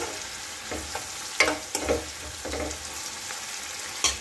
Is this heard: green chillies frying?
yes